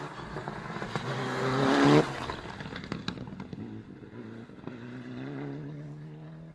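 Mitsubishi Evo rally car driven by Alan Dixon and Martin Forrest on a stage at Knockhill, an engine note swelling loudly as it passes close, then fading into a steady, lower drone with clattering mechanical noise.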